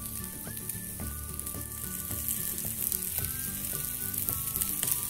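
Chicken seekh kebabs sizzle steadily in a pan over a medium flame, a dense continuous crackle with small pops and clinks as the pieces are set down one by one.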